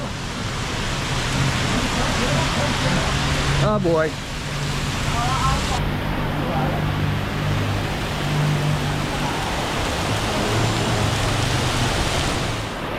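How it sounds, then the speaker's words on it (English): Steady, dense hiss of heavy rain pouring in Bangkok throughout, with a brief exclamation from a voice partway through. "We just got here, and it's pouring. No umbrella, no rain jacket, just a lot of rain."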